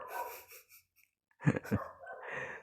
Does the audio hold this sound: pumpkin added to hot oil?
no